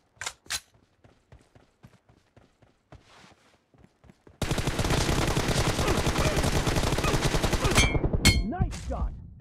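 Gunfire in the mobile game PUBG Mobile during a team deathmatch: scattered soft clicks and taps, then a sudden, loud, sustained burst of rapid automatic fire that runs for several seconds before breaking into a few sharp final shots.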